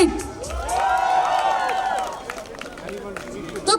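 Guests at an engagement and sangeet celebration cheer and whoop, a rising burst of crowd shouting and clapping that peaks early, then fades into scattered claps and chatter.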